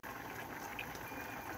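Soft, steady bubbling of liquid boiling, a faint continuous simmer with no voices.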